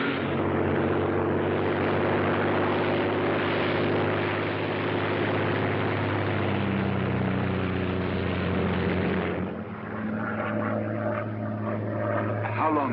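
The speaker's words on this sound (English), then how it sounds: "a Royal Air Force plane is waiting for us at a secret landing place" Royal Air Force propeller plane in flight, a steady droning engine hum throughout as a radio drama sound effect, easing slightly near the end as faint voices come in.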